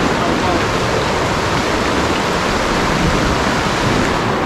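Heavy rain pours down in a rainforest, a loud, dense, steady wash of noise that holds unbroken throughout with no distinct drops or pauses.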